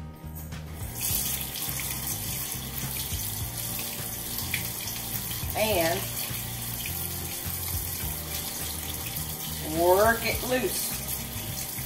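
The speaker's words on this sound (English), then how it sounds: "you can take your frozen tomato and run it under water, warm water," Warm tap water runs steadily over a frozen tomato in a kitchen sink, a constant close splashing stream with a voice talking over it.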